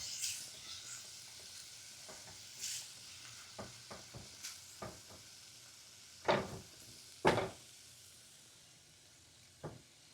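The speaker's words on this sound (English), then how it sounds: "My spinach, tossing that in there." Fresh spinach tossed into a hot pan for a seafood lasagna sauce, a soft steady sizzle underneath scattered stirring clatters and a few louder utensil knocks, close and quiet with no talking.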